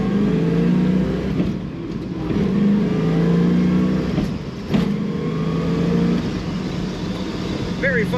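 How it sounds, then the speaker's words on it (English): A 1969 Chevrolet Camaro RS/SS with a 5-speed manual accelerates hard, its engine note rising through the gears in repeated climbs with brief dips at the shifts, loud and close, over steady road noise. "Very fun to push the throttle down on this car."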